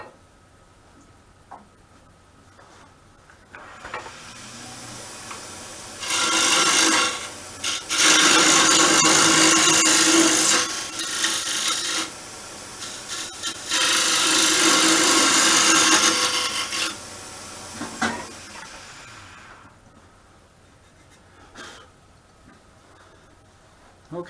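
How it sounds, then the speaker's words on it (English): A box scraper squares the edges of a roughed-out hole in wood for a pendant jig, producing two long, loud rasping scrapes with shorter strokes between them, close by. "I'm going to take a box scraper and just square the edges up and bore it straight through."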